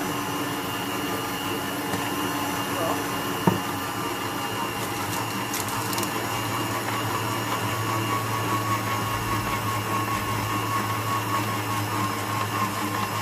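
Stand mixer kneading Moroccan bread dough, running at a steady whirring drone that persists throughout, with a brief knock partway as the speed is raised.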